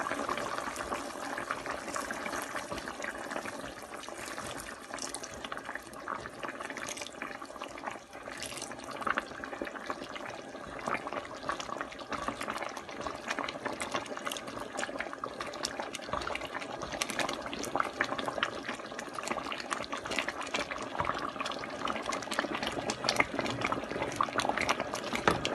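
Cornflour slurry is poured bit by bit into a simmering pot of Turkish soup, giving a continuous wet bubbling and pouring wash that grows slightly louder toward the end, with no talking.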